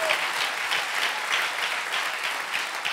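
Church congregation clapping together for the Lord, a full, sustained wash of many hands with a loose rhythmic pulse, fairly loud and steady without any voices over it.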